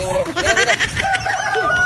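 A fighting rooster clucks and calls close by in a short burst of rising and falling notes, with a voice briefly in the background.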